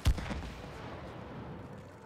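A single gunshot from the co-op video game It Takes Two fires as a sharp, loud burst at the very start, then decays into a low rumbling tail.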